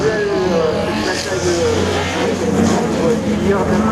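Race car on a slalom course at the Slalom du Mortanais, its engine droning steadily and loudly throughout, with a commentator speaking over it.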